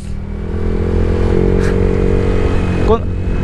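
A motorcycle with an aftermarket T4S exhaust pipe roars loudly and steadily at high revs, a deep buzzing drone that swells briefly near the end.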